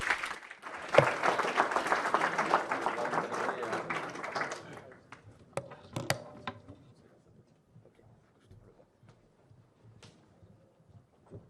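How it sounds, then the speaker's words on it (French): Audience at a Google marketing solutions and partners event claps for a presenter coming on stage, dense applause for about five seconds, then thinning to a few scattered claps and quiet room noise. "On l'applaudit bien fort."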